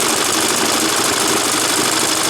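An old Suffolk reel mower's two-stroke engine runs steadily at a constant, loud, buzzing pitch, close by, with no talking over it.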